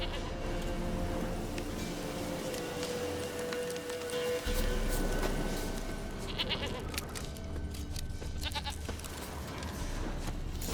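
Goat bleating in The Witcher 3 video game, a few short bleats over a bed of rainy, rustling ambience, with a deeper rumble joining midway.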